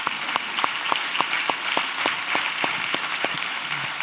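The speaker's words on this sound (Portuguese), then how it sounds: "Bata palmas." Audience clapping in unison on cue at a talk, sparse regular claps roughly every third of a second, moderately loud and steady for several seconds with no voices over it.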